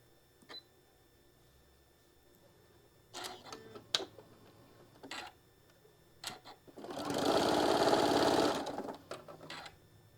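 Sewing machine stitching narrow fabric strips in a single loud burst of about two seconds, preceded by quiet clicks, taps and fabric handling, with faint talk in the background.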